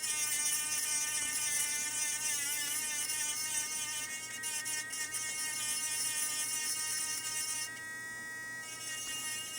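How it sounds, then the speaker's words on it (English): A high-speed rotary grinder whines steadily against an iPhone CPU logic board, a continuous close buzzing tone that shifts pitch slightly as pressure changes, with no talking. "All right, let's grind away some of this side a little more."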